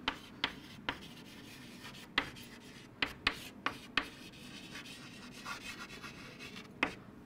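A pen writes notes by hand during a biology lesson, giving close, quiet scratching strokes punctuated by sharp taps as it meets the paper.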